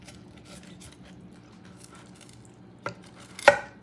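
Knife working around the bone of a T-bone steak on a board: quiet scraping and cutting, then two sharper knocks near the end.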